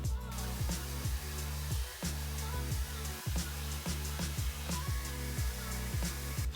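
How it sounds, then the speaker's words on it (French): A hair dryer blows steadily and loudly nearby, its motor hum pulsing in a regular rhythm with a constant airy rush on top. "mon sèche-cheveux c'est un Secotec et il sèche extrêmement bien"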